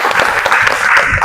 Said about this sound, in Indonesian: Beri tepuk tangan untuk Yulia.